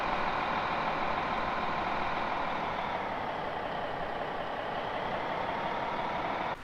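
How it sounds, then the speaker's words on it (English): An airside airport bus at Geneva airport in Microsoft Flight Simulator 2020, a steady engine drone driving past at moderate distance, continuous and fairly even, with no talk. "airside vehicles going by and you can hear them"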